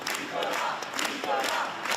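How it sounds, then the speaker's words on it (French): Supporters of former French president Nicolas Sarkozy gather in a Paris street, cheering and shouting in a dense, continuous crowd roar with bursts of voices throughout. "Applaudissements des partisans venus à l'appel des trois fils de l'ancien président de la République"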